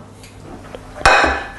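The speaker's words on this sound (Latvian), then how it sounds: "Gāžam iekšā traukā." Peeled tomatoes are tipped into a dish, a quiet rustle followed by a sudden clattering knock of the bowl and a short wet slide, close by and alone.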